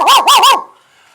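A voice imitates a dog barking, giving three loud, close, rapid bow-wow barks that trail off into quiet.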